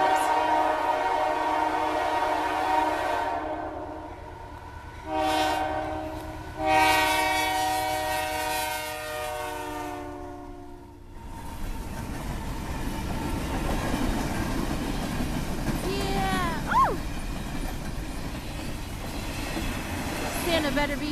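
A passing Christmas train rumbles by close by with loud horn blasts early on, then steady rolling clatter of wheels on the rails.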